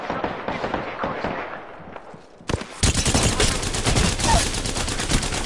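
Rapid automatic gunfire in a video game firefight, bursts of dense shots building up and then a sudden loud sustained volley that keeps going to the end, close and prominent.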